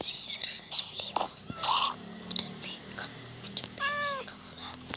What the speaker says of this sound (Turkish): Kedi, Kedi. Kediden korktum.